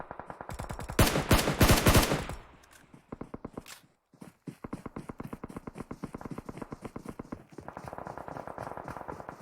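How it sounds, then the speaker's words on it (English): Rapid bursts of gunfire crackle in the PUBG Mobile video game during a pro scrimmage match, with shots heard in the distance, alongside dense rhythmic in-game footsteps and a louder automatic burst early on. "Lots of shots in the distance."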